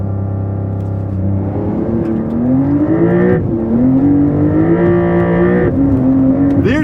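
A Porsche 911 Dakar launches on dirt in rally mode, engine roaring close and loud as it climbs through rising sweeps, dipping briefly at each gear change before pulling hard again, with no talk.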